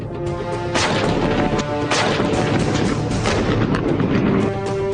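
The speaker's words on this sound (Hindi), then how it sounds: "तोपें गरजी" Repeated heavy artillery blasts boom in quick succession over a constant roar, loud and dense, with sharp reports overlapping throughout.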